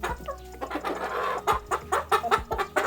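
Large Goliath chickens cluck in a quick, irregular series of loud, close clucks and squawks on a poultry farm, with no talk over them.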